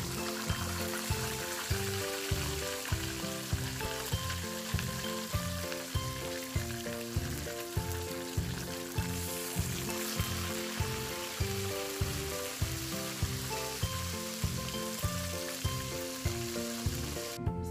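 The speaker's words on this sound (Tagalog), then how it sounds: "ipa-fried muna natin yung ating tilapia" Tilapia fries in cooking oil in a pan in a small home kitchen, producing a loud, dense, continuous sizzle with regular pulsing crackles throughout and no talking.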